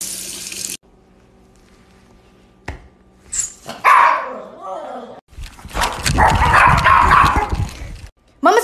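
A dog barks excitedly at a lizard, with sharp barks mixed with a person shouting and splashing, tap-like water noise, coming in uneven bursts, loud and close, with a gap of near silence between.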